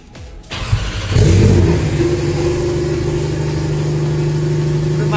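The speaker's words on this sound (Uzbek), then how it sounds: "Tayyormisizlar zavod bo'lishiga?" A Porsche 911 Turbo S engine cranks and fires up, then revs loudly up close before settling into a steady, deep idle drone.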